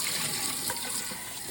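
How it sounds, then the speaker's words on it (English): Steady, close rush of tap water pouring into a cooking pot being refilled to boil harvested bamboo shoots again, a continuous bright gushing splash without pauses. "fill the pot up with water again"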